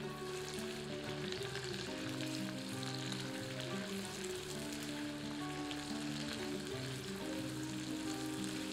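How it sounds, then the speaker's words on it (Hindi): Onions frying in a pan over medium heat for a spicy Indian turkey masala curry, a constant even crackling sizzle with a low hum running beneath it, steady and moderately quiet throughout with no voices. "आंच मध्यम करके प्याज को पारदर्शी रंग में परिवर्तित होने तक भूनते हैं।"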